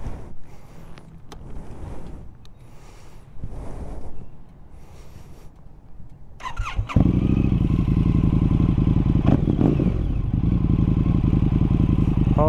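A 2022 Indian FTR 1200 motorcycle starts after a few seconds of quiet handling noises, then idles loudly and steadily at close range with a deep, even rumble.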